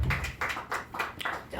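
A church congregation claps together for the Easter resurrection, a few loose, irregular rounds of hand claps over about two seconds, fairly near and moderate in level.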